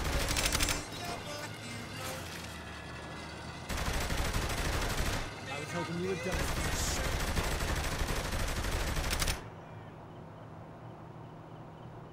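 Bursts of rapid gunfire from the video game Saints Row: The Third come in long, dense volleys with brief gaps, loud and close, with voices talking over the action before the shooting stops.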